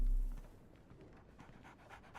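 A pet dog panting steadily in a room, soft rapid breathy pants repeating throughout, fairly close and quiet with no talking.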